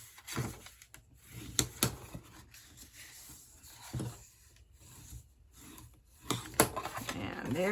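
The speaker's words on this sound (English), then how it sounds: "There's all of our piece all scored now and burnished." Scored card for a milk carton treat box is burnished with a tool, making quiet scraping rubs and a few sharp taps at irregular intervals, close by, with soft movement noises between strokes.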